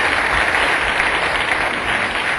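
An audience applauds at the end of a lecture, a dense, steady clapping from a room full of people that continues evenly and loudly throughout.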